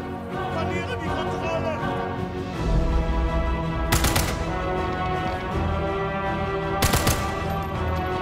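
Gunfire in the video game Sniper Elite 5, with two sharp loud cracks spaced a few seconds apart standing out over a steady busy layer of game music and background noise.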